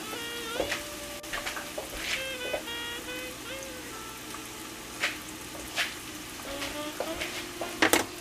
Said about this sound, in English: So I've added one big chopped onion into this mixture as well. And I'm stirring it up